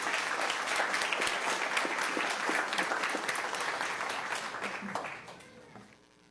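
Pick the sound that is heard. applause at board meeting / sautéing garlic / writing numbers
applause at board meeting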